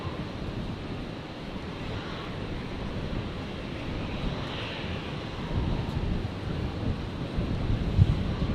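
Airbus A320neo airliner at Brisbane airport, a steady, broad jet roar heard from a distance under wind buffeting on the microphone, swelling slightly toward the end.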